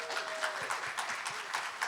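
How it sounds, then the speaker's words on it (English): Audience applause at a panel on small businesses behind major sports and entertainment events, steady soft clapping from a crowd heard at some distance. "give her a round of applause."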